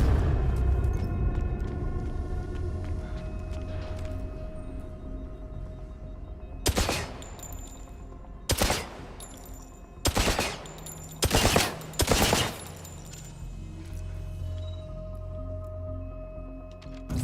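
Gunfire at a shooting range in the 007 First Light video game: several short loud bursts of automatic shots stand out over a steady humming game ambience with background music.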